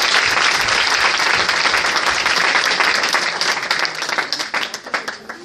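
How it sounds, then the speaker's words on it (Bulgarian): A church congregation claps in sustained, dense applause that fills the room, then thins into scattered individual claps toward the end. "I want to clap as people come."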